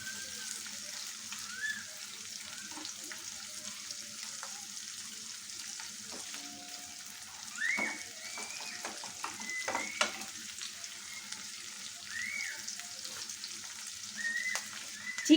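Onions frying with a little salt in a pan, a soft steady sizzle with occasional stirring scrapes and clinks, close and moderately quiet.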